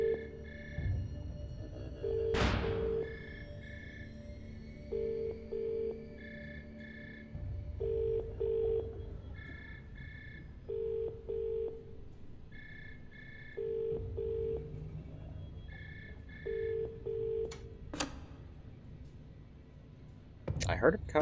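Paired telephone keypad tones beep in short repeated groups on an in-game phone in the horror game Monstrum, with a low dial hum between presses and a few brief thuds and clicks.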